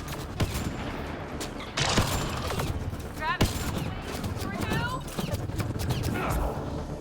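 Gunfire in the sci-fi shooter game Mass Effect Andromeda crackles in sharp bursts and single reports, with mechanical clanks and quick electronic chirps mixed in, all fairly close and continuing throughout.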